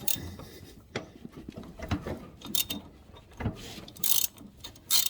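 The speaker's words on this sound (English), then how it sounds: "I'm going to take a pipe wrench and put it on the shaft of the pulley itself to loosen the nut" A pipe wrench grips a pulley shaft to loosen the nut on a Briggs & Stratton V-twin engine, giving a few scattered metallic clanks, ratcheting clicks and scrapes, close up with pauses between.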